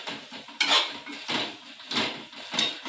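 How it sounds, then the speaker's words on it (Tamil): A utensil scrapes and knocks around a pan while coriander is stirred into paneer gravy, several rhythmic metallic sweeps and taps up close, with no one speaking. "கிண்டிக்கோங்க. நல்லா மிக்ஸ் பண்ணிக்கோ."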